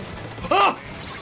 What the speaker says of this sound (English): I have a cat.